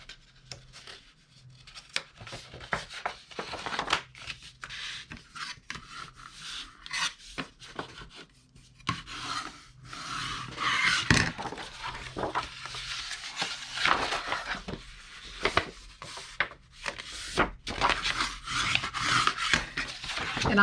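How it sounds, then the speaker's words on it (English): Paper scores being folded and burnished by hand, a steady run of soft rubbing and scraping strokes with small crisp crackles, close and fairly quiet, with no talking. "now we're going to fold and burnish all of those scores that we made"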